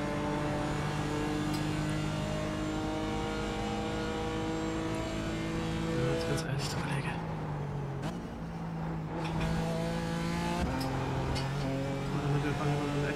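A race car in a racing video game on a qualifying lap around the Green Hell circuit gives a loud sustained engine drone that climbs in pitch and dips at gear shifts, with a voice talking over it.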